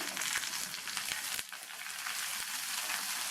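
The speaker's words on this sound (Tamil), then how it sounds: "இந்த வெங்காயம் ஓரளவு வதங்கி வரணும்" Small whole shallots and a dried red chilli sauté in hot oil for turnip sambar, a steady close crackling sizzle throughout with a couple of brief stirring clatters.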